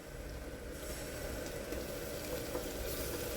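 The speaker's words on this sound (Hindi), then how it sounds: "और अब हम इसमें मैरिनेटेड बोटियाँ जो है वो सब डाल देंगे, इसमें ऐड कर देंगे।" Marinated mutton boti pieces frying in a pressure cooker give a steady, soft sizzle that holds evenly throughout, quiet and close with no talking.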